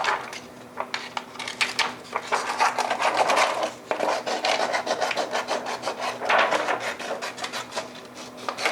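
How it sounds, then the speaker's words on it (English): Scissors cut away excess inkjet film for screen printing, giving rapid, rhythmic crisp snips and rubbing rasps, close and fairly quiet, with no talk. "I normally will cut the excess away."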